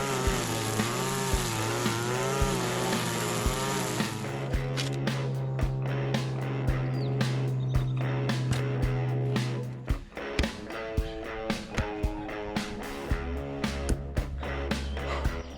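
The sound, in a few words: weed whacker cutting grass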